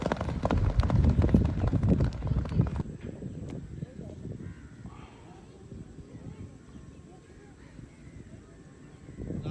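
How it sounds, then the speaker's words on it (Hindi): Racing horses gallop at a tent-pegging (neza bazi) event, with loud, dense hoofbeats for the first few seconds that then fade into quieter, more distant thuds under wind noise. "माशाल्लाह बहुत स्पीड घोड़े अच्छे घोड़े"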